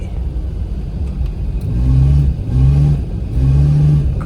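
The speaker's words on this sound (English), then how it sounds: "Great exhaust sound." Suzuki Jimny with a cold air intake revving up close and loud, three rising pulls of engine and exhaust separated by brief lifts off the throttle.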